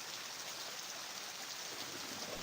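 Heavy rain falls in a steady, unbroken hiss that stays even throughout, fairly faint and distant, with no voices or other sounds.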